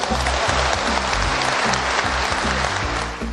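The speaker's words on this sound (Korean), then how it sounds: "야, 이럴 땐 박수 안 나옵니까?" An audience applauds during a speech by the president, a loud, sustained wash of clapping with a low rhythmic hum underneath that eases off slightly at the end.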